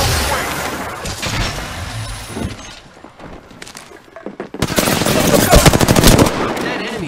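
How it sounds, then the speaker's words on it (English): Apex Legends gunfire, loud close bursts of rapid automatic shots with crackling impacts and shattering, breaking sounds, easing off briefly in the middle before a dense, intense volley resumes. "The enemies are shooting at me."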